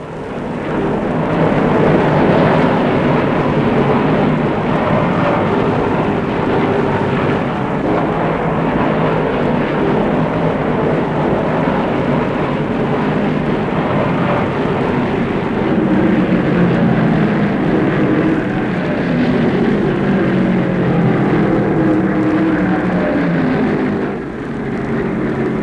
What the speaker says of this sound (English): as the little Dodge engine turns up faster, he blows off Foyt for the lead